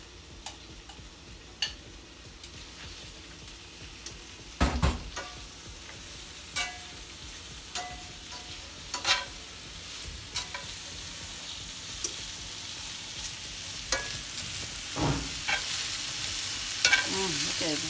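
Onions frying in a pan for steak fajitas give a soft, steady sizzle with scattered clicks and stirring scrapes, moderately quiet and close, with no talking.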